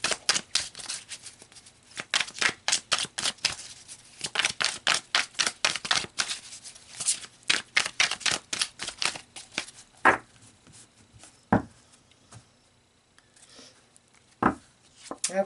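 Tarot cards are shuffled and laid out, a long run of rapid riffling flutters and slaps in close succession, then a few separate sharp snaps as cards are placed down, close and crisp.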